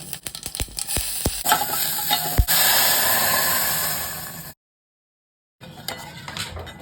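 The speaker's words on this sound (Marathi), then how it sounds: "आता तूप घेतलंय परत थोडंसं जिरं घालते सफेद तिळही घालते मी" Cumin and white sesame seeds sizzle loudly in ghee in a pan after a few sharp metallic clinks, the hiss fading before a short silence, then faint sizzling and stirring return.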